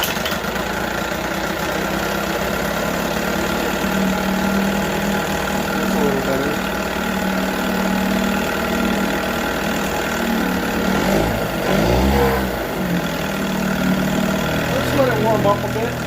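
A 1978 Johnson 6 hp outboard motor idles steadily with a slightly lean, uneven running note, a continuous mid-pitched drone with small surges throughout.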